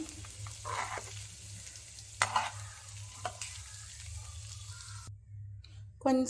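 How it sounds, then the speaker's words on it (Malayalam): Prawns frying in a pan, with close sizzling and crackling interrupted by stirring and scraping as they are turned to cook the other side, then a brief near-silent gap before louder sizzle returns. "എല്ലാം മറിച്ചിട്ടു നമുക്ക് മറു സൈഡിലും കൂടി വേവിച്ചെടുക്കാം കൊഞ്ചെല്ലാം നല്ലതുപോലെ ഫ്രൈ ആയി"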